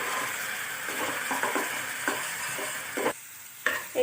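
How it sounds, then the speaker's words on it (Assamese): Chili and garlic paste frying in a pan for a fish curry, with a close, loud sizzle, repeated spatula stirring strokes and a sharper clatter near the end, no talk. "এইখিনি আমি এতিয়া ৰঙাকৈ ভাজি ললো"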